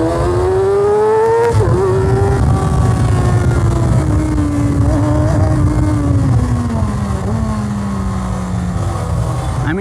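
Kawasaki Ninja ZX6R 600cc superbike at speed, a loud continuous engine drone with wind noise, the pitch dropping sharply at a gear change and then sagging gradually.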